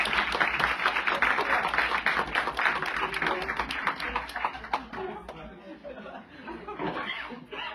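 A church conference congregation in Liberec applauds, with dense rapid clapping mixed with voices and light laughter that gradually thins out.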